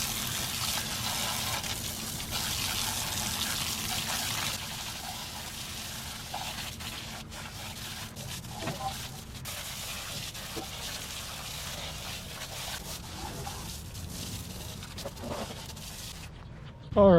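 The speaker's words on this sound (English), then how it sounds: "clean these out a bit with the hose." A garden hose sprays water steadily on vintage camper parts outdoors, a continuous close hissing splash with brief interruptions and shifts as the stream moves, ending with a clunk.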